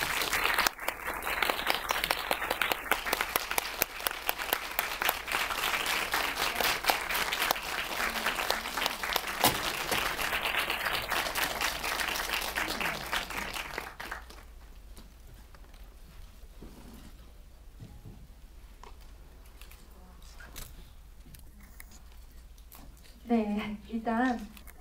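Sustained audience applause at a Korean cinema talk event for the film 꿈의 제인, dense clapping filling the room for about fourteen seconds before fading into quiet murmur, with a brief voice near the end.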